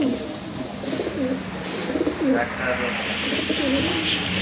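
Caged pigeons, ring-house pigeons at a market, give repeated low throaty coos in a loose rhythm close by, with people talking over them.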